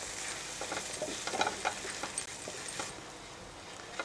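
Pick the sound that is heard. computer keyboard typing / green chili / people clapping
green chili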